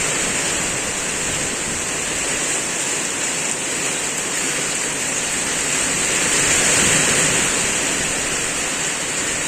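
Steady, dense hiss of heavy rain pouring down continuously, loud and close, with no voices.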